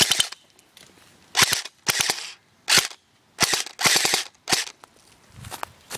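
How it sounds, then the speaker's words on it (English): Gunshots fired at a pair of sunglasses come as a rapid series of sharp, loud cracks in irregular clusters, close to the listener, with brief gaps between bursts. "I'm going to shoot it one more time."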